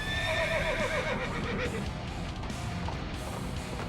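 A horse in an animated show gives a loud, shrill whinny at the start, followed by clattering hooves and busy layered background noise.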